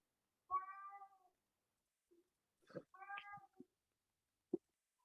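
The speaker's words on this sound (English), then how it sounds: "The cat knows something." A cat meows twice indoors, close and clear, each call rising and then falling, with a few faint soft thumps in the quiet around them.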